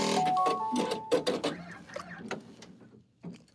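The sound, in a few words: single needle embroidery machine stitching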